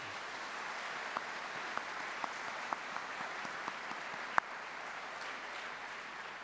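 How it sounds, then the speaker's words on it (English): Sustained audience applause at a Bath Spa University graduation ceremony for the Bath School of Art, Film and Media, a steady wash of clapping with a few sharper individual claps standing out, moderately loud throughout. "to give them a round of applause"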